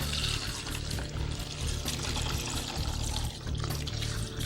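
Degreaser is poured into a container during the metal-parts cleaning of a VZ-52 rifle restoration, giving a steady, continuous gush of liquid that stays loud and even throughout.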